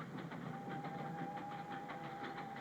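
A train rumbles steadily with a faint rhythmic clatter of wheels and a thin sustained tone, heard from inside or nearby.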